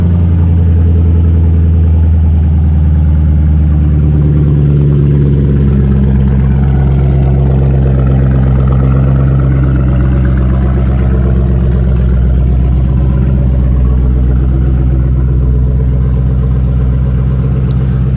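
A 2005 Ford Mustang GT engine rumbles loud and deep through its mufflers, idling steadily up close for a long stretch with no talk over it.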